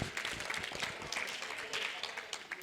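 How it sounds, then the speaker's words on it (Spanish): A crowd claps and cheers steadily for a few seconds, the applause dense and close, with voices mixed in. "Un aplauso para Peña Nieto, compañeras y compañeros."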